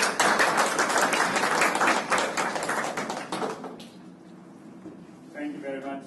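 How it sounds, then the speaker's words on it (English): Audience applause following a debate at a Japan-U.S. exchange event, a dense burst of clapping that fades after a few seconds, with a voice speaking near the end. "let's give you another round of applause for this"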